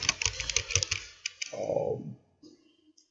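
Quick bursts of computer keyboard typing, close and crisp, as an entry is keyed in, followed by a short pause and a few stray clicks.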